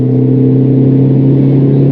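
BMW 520d G31 diesel estate at full throttle on the autobahn, a loud, steady droning engine note that holds without a break, heard from inside the cabin.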